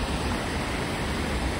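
A Yorkshire waterfall pours in a steady, loud, broadband rush, close by and continuous with no voices over it.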